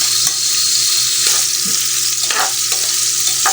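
Garlic frying loudly in a pan for beef skin balbacua, a dense close sizzle with a few soft stirring knocks underneath.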